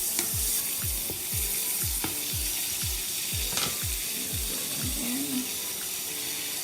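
Blanched snow peas and green beans fry in oil in a pan, a steady close sizzle with a run of rhythmic knocks and stirring scrapes underneath, loud and continuous with no talking.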